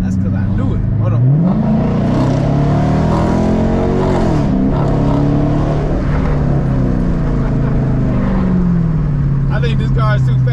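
A lowered Chrysler 300 sedan accelerates hard through city streets, its engine rising in pitch through gear changes from inside the car, loud and continuous, with voices talking over it.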